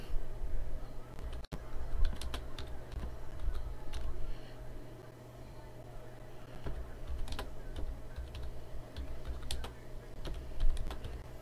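Keys are typed on a computer keyboard at a card-breaking session, a steady run of quick close clicks with irregular bursts over a low background hum.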